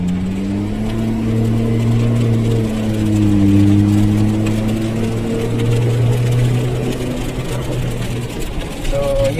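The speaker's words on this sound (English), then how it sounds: "bigyan ko kayo ng konting feel kapag ka nag-boost itong turbo na itong kit na to" Suzuki Jimny JB74 fitted with a Greddy turbo kit pulls on a wet, rainy road, its engine drone rising and shifting in pitch as boost builds, steady and loud throughout with a faint voice underneath.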